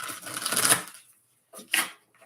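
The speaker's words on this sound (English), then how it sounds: "let's go ahead and get a couple of shuffles" Tarot cards are shuffled in two bursts, a longer riffling rush and then a short crisp flutter after a brief pause, close and fairly loud.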